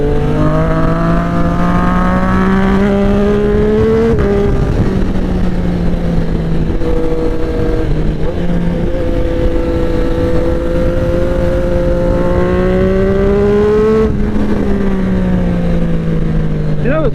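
A Triumph 765RS with an SC Project exhaust rides along, its triple engine note rising and falling through gear changes with a steady, throaty drone; wind noise sits underneath, and a rider speaks over it.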